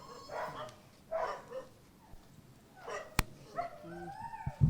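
Several dogs at a shelter home in Lucknow bark and yip in scattered bursts, some close and loud, others further off, with whimpering whines near the end.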